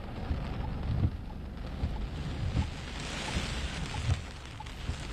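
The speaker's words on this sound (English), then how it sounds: "Is it only rain?" Heavy rain falls during a severe thunderstorm near I-40 in Pottsville, Arkansas. A steady, dense roar of downpour runs throughout with low rumbling underneath, and no voices are heard.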